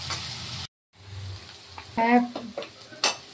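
Onions fry in a hot pan for a fish curry, a steady sizzle with stirring and a few clinks of utensil against metal, broken by a brief silent gap, while people talk faintly nearby.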